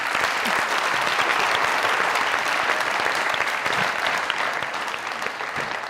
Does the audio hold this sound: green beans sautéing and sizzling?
no